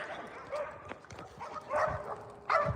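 Dogs bark outdoors in a series of sharp, irregular barks and yips at moderate distance, with a voice talking between them as evening falls.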